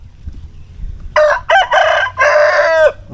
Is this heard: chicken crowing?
yes